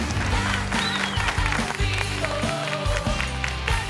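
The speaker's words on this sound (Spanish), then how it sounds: "¡Fuerte el aplauso!" Audience applause on a televised children's singing audition show, dense clapping and cheering under loud music, sustained throughout.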